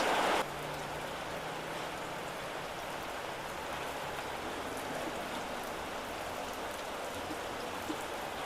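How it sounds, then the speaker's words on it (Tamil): Steady heavy rain pours down outdoors in a continuous dense hiss of drops on surfaces, loud and unbroken throughout, with a brief brighter burst at the very start. "பாருங்க எப்படி மழை பெய்யுது, நல்ல மழை பெய்யுது இங்கே."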